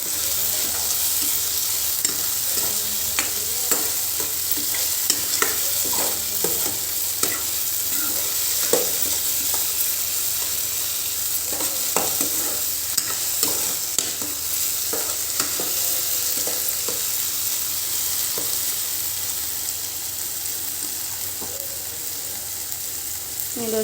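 Tomato with chilli powder, coriander powder, turmeric and garam masala fries for a capsicum curry, sizzling steadily in the pan while a spoon scrapes and stirs in irregular clicks, with no talk over it.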